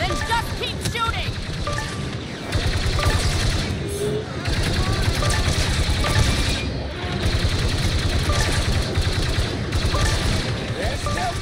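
Sustained, dense blaster and gunfire from a Star Wars Battlefront II battle, firing continuously in rapid volleys with brief lulls.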